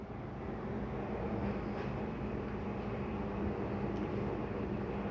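A steady low motor rumble and hum of a slide-out room retracting on a 2023 Jayco Eagle 30.5 RSOK travel trailer, continuous and moderately loud, heard from a little distance with no talking.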